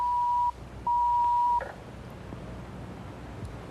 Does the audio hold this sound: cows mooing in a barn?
no